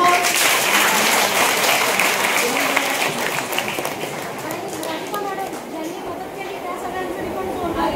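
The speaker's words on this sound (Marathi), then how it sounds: "चला तुमच्या टीचर्ससाठी जोरदार टाळ्या" Students at a school nutrition fair in a village high school applaud their teachers, a dense, steady wash of clapping with loud voices and chatter mixed throughout, tapering slightly toward the end.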